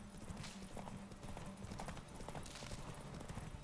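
Horse hooves clip-clop steadily in The Witcher 3, a continuous rhythmic trot close up and fairly loud throughout, with no talk over it.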